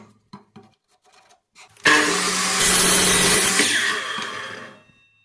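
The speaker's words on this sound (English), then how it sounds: "Using my miter saw, I cut 4 pieces according to the required size of the gate" A miter saw spins up and cuts through a wooden piece at a 45-degree angle, a loud, close whining rip lasting about two seconds before winding down, preceded by light knocks as the wood is set in place.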